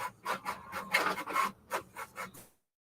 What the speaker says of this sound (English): The printer.